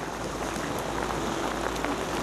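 Rain falls during an outdoor fishing trip, a dense steady hiss of drops pattering on surfaces that holds evenly and fairly loud throughout, with no voices.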